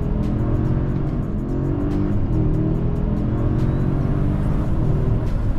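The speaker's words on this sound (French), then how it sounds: "on entend bien le V8 quand même malgré son insonorisation" A Mercedes-Maybach GLS600 SUV's V8 engine accelerating, a steady, loud, throaty drone that holds throughout with no voices.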